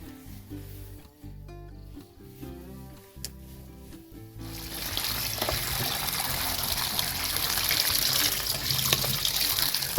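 Garden vegetables washed under running water from a tap, a steady loud gush and splash that begins partway through after quieter handling sounds and continues to the end.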